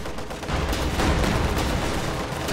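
A Pak 43 anti-tank gun fires at a T-34-85 in a strategy video game, amid a dense, continuous barrage of booming gunfire and explosions with no talk.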